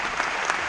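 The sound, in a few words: applause from an audience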